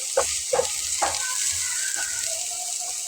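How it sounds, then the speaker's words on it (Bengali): Three chopped onions fry in a pan with a steady close sizzle, while a utensil stirs them in several distinct scraping strokes at a roughly even rhythm. "পেঁয়াজটা দিয়ে একটু নাড়াচাড়া করে নিতে হবে।"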